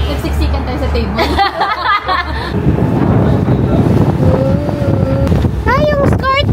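Strong wind buffets the microphone on a boat crossing the Bosphorus, roaring steadily over a low engine rumble, with brief voices and higher calls near the end.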